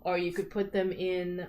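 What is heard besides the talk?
No everyday noise stands out behind the speech.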